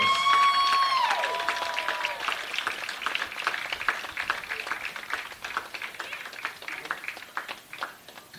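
Closing round of applause for University of Tampa's senior softball players at a home game against Barry, steady crowd clapping that swells after an opening tone and carries on at a fairly constant level throughout.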